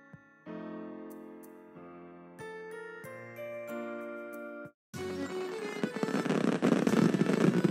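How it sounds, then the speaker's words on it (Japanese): Fireworks launching and bursting in The Charming Empire, an otome dating sim set during a town festival, follow a stretch of chiming music; a dense, loud crackling barrage swells through the second half with no voices. "打ち上げ花火。"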